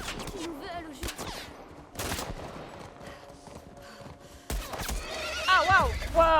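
A horse whinnying in The Last of Us video game amid chaotic action, with rapid gunfire bursts and clattering earlier, then a loud quavering neigh near the end.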